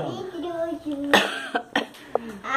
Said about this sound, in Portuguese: Ai, deu uma crise de tosse agora.